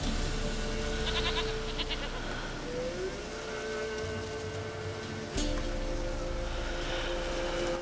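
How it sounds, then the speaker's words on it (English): A goat in The Witcher 3 video game gives a few short, wavering bleats over a low, steady background hum, with a sharp click partway through. "Goat of mine! Dearest, sweetest goat!"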